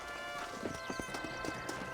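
Hoofbeats of a horse in the video game Red Dead Redemption clip-clop steadily at a trot or gallop, with a brief whinny, over a constant bed of in-game ambience and music.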